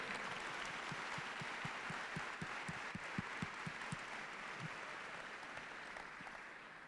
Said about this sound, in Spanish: ¿Qué tal si le damos un aplauso fuerte a la palabra de Dios?